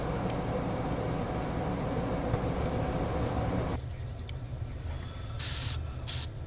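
An airbrush sprays a thinned Tamiya XF57 buff dust coat onto a 1/35 Tamiya M41 Walker Bulldog model, giving a steady close hiss that cuts off partway, then a few short bursts of spray.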